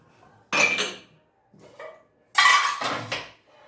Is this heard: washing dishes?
yes